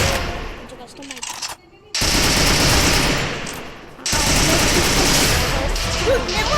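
Video game gunfire rattles in rapid automatic bursts, loud and close, broken by a short pause and a longer dip before the firing resumes.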